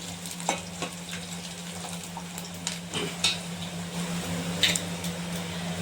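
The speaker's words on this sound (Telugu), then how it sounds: "మనం చక్రాల్లాగా తరిగి పెట్టుకున్న వెల్లుల్లిని సిమ్ములో పెట్టుకొని వేసుకోవాలి" Sliced garlic rounds frying in oil on low heat for drumstick pickle, a steady close sizzle with occasional stirring clicks and pops over a low hum.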